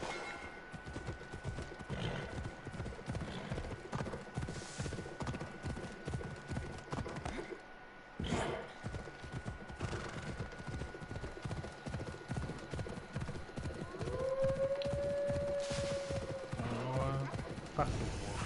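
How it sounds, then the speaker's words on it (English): A summoned horse galloping in the video game AC Odyssey, steady rhythmic hoofbeats throughout with a brief whinny and other game sounds, while a person talks over it. "let me go ahead and call my horse right now."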